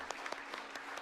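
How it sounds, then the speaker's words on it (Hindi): An audience in the Akashvani Doordarshan hall claps along to a song, giving faint, rhythmic, evenly spaced hand claps that sound distant and soft. "तालियां बजाओ यार। हाँ वैसी बजाओ।"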